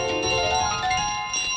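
A bell rings in Untitled Goose Game, a bright metallic clang with long shimmering overtones that sustain and fade, repeated jangling as it is carried, with no voices.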